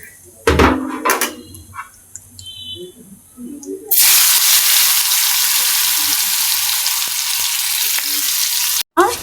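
Hilsa fish fried in hot oil: after a few clattering knocks and clinks, a loud, dense sizzle bursts in and holds steady close by, with a brief cutoff near the end.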